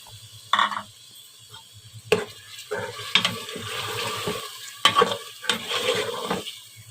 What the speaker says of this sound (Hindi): और इसे भी अच्छी तरह भून लूँगी।